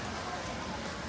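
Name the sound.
rain falling at Epcot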